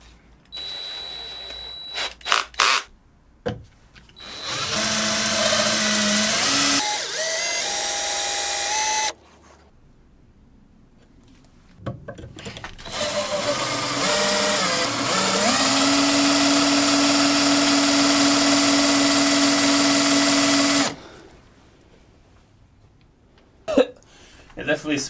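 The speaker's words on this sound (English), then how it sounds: "For argument's sake, I'm going to use a drill to see if I was even close." A power drill spins wood for friction fire-making, whirring loudly in two long bursts, its pitch rising and settling, with pauses and brief sounds in between.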